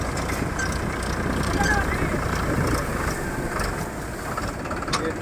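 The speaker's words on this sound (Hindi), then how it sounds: "ये हमारी ट्रैक्टर जो आ रही है अभी" A tractor rumbles steadily at a rice harvest in south Bihar, its engine drone loud and continuous with broadband mechanical noise and no clear approach swell.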